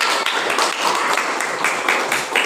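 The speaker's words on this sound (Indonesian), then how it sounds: "tepuk tangan untuk kita semua" Classroom audience clapping together after a lesson, a dense, steady patter of many hands lasting throughout at a fairly loud level, with no voices standing out.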